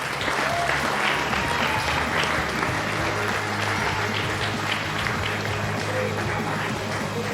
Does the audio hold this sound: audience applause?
yes